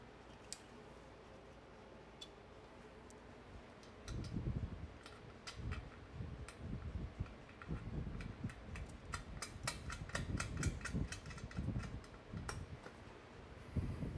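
A ratchet runs down valve cover bolts on an engine, fast clicking ticks coming in quick bursts over low handling noises, quiet and close, after a few seconds of near silence.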